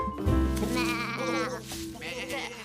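Sheep bleating on a farm, several wavering calls close by in a cartoon scene, with background music and brief speech mixed in.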